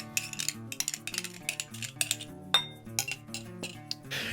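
A spoon clinks and taps against a bowl as a cup of mayonnaise is scooped in, making a series of light, close metallic clicks over steady background music.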